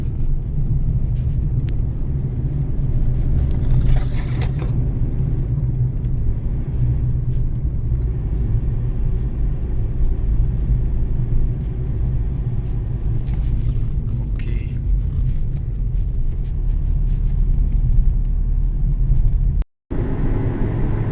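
Cars pass one after another on a road in Beyşehir, including a small Maruti 800-style hatchback and a faster Porsche, heard as a continuous loud rumble of engines and tyres from inside a moving vehicle.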